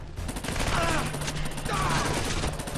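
Gunfire in the video game Splinter Cell: Conviction, a loud sustained stretch of rapid shots with voices faintly mixed in underneath.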